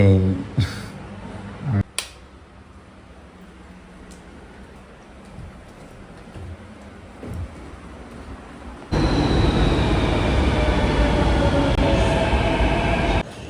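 Hollow rumble of an underground metro station in Mumbai with scattered clicks and faint voices, then a louder train roar surges in and sustains.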